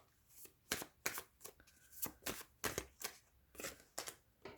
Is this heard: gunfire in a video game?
no